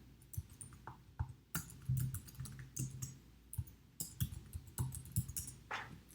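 Quiet, uneven clicks of typing on a computer keyboard come in short bursts of keystrokes with small pauses between them.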